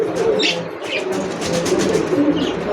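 Racing pigeons coo loudly and close, with overlapping throaty calls in an uneven rhythm and a few higher flutters or chirps mixed in.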